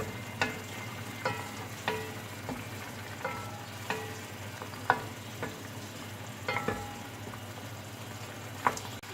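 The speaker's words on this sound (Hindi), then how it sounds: "सूखा धनिया, हल्दी, ये सब डाल के अभी इसे हम भून लेंगे।" Dry coriander and turmeric roast in a pan for a mutton stew, with a low steady sizzle broken by frequent sharp scrapes and clinks of stirring, close and without speech.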